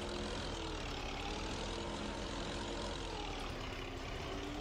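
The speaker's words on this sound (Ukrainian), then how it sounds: "Трактор." Steady tractor engine in the farming video game Farming Simulator 22, a constant droning hum with a low tonal whine, loud and unbroken throughout, no voices.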